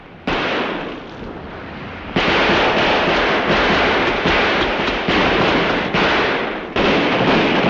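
Soldiers fire guns at a man swimming in the water in an old film, a loud continuous barrage of overlapping shots and bursts that swells sharply a few times, with no talk heard.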